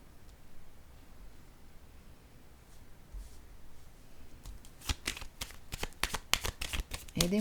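A deck of tarot or oracle cards is shuffled close by, quiet rustling at first, then a quick series of loud crisp riffling slaps building toward the end.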